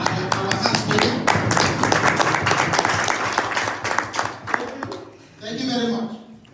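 Audience applause at a seminar in Geneva, a sustained burst of many hands clapping for about five seconds, then a brief pause and a short second round of clapping at the end, with faint voices among the crowd.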